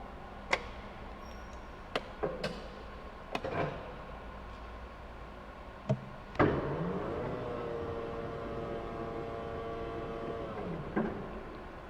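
A forklift truck running its hydraulic functions, with sharp clicks and knocks at irregular intervals and a sustained mechanical whine of a hydraulic pump in the second half, fairly quiet.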